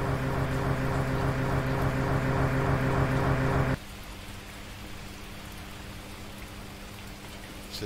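Steady, dense rain falls in the video game Signal Simulator, a continuous hiss that starts over a loud droning machine hum and continues alone after the hum cuts out.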